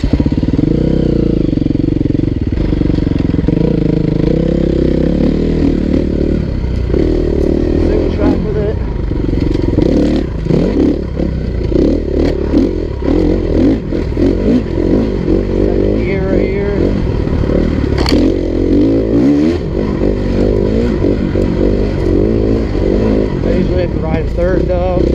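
A 2016 KTM 350 EXC-F dirt bike engine runs loud and close, shifting between revs and lower idling while riding, with people talking over the engine noise.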